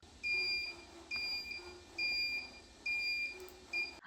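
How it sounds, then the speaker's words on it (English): A homemade car parking distance sensor sounds in short, evenly spaced high-pitched beeps, five pulses at a steady rhythm, fairly quiet with no talking. "Have you ever seen a car that beeps when something gets closer and tells you something is in front?"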